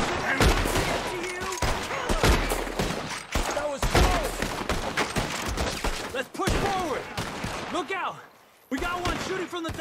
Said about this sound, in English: shooting from the tower!